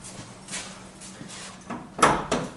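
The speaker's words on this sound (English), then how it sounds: "I open bonnet." Car bonnet of a Toyota Camry being opened: a quiet latch click and creak, then a firmer metallic clunk near the end, close by in a quiet setting.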